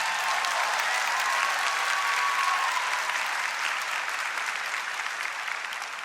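A large church congregation at a Corpus Christi Mass claps in loud, sustained applause that stays dense and even, tapering only slightly toward the end.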